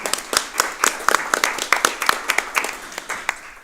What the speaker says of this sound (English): So, round of applause for our Eagle Scouts.